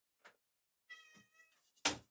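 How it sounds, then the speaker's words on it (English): A cat meows at a door wanting to be let in: a short cry, then a longer harmonic meow, and a final loud, close call. "I gotta let my cat in"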